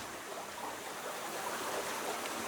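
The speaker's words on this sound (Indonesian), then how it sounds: "dekat dengan sungai, gitu, aliran sungai yang kecil ini" A small river stream flows beside a villa near rice fields, a steady, soft wash of water that runs evenly throughout with no voices.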